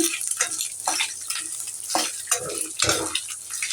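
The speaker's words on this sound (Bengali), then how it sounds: "আমি লাল করে ভেজে নেব" Close, crackling sizzle of pabda fish frying in hot oil, broken by scraping stirs of a utensil in the pan.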